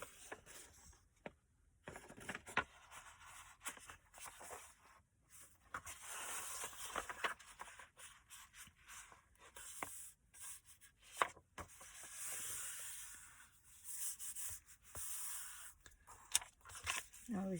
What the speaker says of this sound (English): I'm gonna fold this and cut it